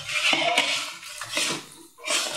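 A spoon scrapes and stirs around a pot of khoya and sugar for mawa barfi, giving irregular metallic scraping and sloshing strokes, close and fairly loud, with no talking.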